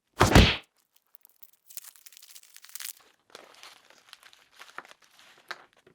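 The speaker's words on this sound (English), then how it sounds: "Directions say to whack and unwrap." An orange-flavoured sweet is struck once with a loud, solid thunk, then its wrapper is peeled off in a run of crinkling and tearing rustles that stays close and fairly quiet.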